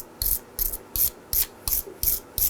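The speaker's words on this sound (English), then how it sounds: "clean the threads with a wire brush" A wire brush scrubs the threads of an engine torque mount bolt on a 2013-2019 Nissan Sentra 1.8L, seven quick, evenly spaced rasping strokes close up with short pauses between.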